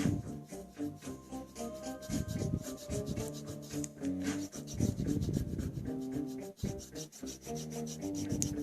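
A rubber eraser scrubs rapidly back and forth against the metal contacts of a 1986 Nintendo cartridge in steady, close rasping strokes, with music playing underneath.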